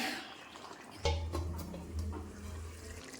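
A small splash of water is poured into a pressure cooker of chicken, a short gurgling pour starting abruptly and running for about two seconds, heard faintly and close by.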